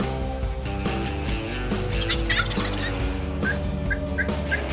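A wild turkey gobbler gobbles during a spring hunt, with several quick, rattling gobbles bursting out close and loud over a busy, layered background.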